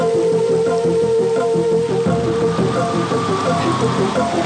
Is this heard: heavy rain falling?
yes